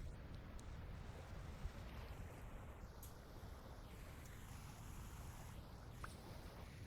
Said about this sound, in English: No, just really heavy water sound. Oh, because the waterfall probably.